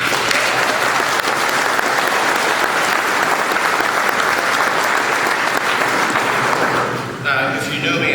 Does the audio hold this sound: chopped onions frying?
no